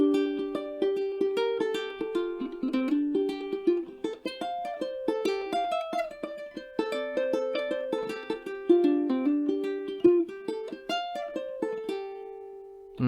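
Ukulele played campanella style, notes ringing over one another like a harp in a flowing, continuous melodic line, close and clear with no talking.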